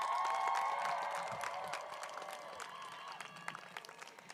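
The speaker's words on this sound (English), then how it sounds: "Give them a round of applause" Audience applause at an outdoor university spring commencement ceremony, a dense steady clapping that starts strong and slowly thins and fades over a few seconds, with wind noise faintly underneath.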